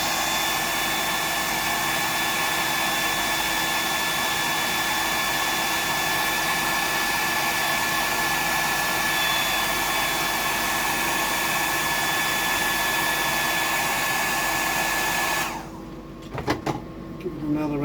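A hair dryer blows steadily up close while drying a Mantis Prawn fly-tying pattern, a constant whirring hum that cuts off near the end, followed by a few faint handling knocks.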